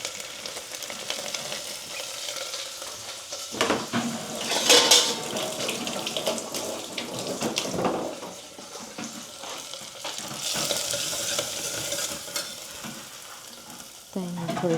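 Potatoes sizzle in hot oil tempering for sabudana khichdi and get stirred with scraping clinks, a soft continuous frying hiss with louder bursts of stirring and a faint splash of water near the end.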